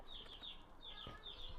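Buff Orpington hens with a cockerel give faint, repeated high chirps and soft clucks in a quiet outdoor setting, with a brief low thump midway.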